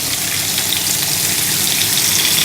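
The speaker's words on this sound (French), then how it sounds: "Ça doit bien grésiller" A turkey fillet fries in a pan, giving a loud, steady, dense sizzle that crackles continuously without pause.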